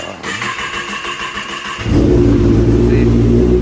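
A 2021 Kawasaki ZX10R sport bike with a GP shift setup cranks on while sitting on stands, moving from faint clicking and a starter whir into a loud, steady close-up engine idle.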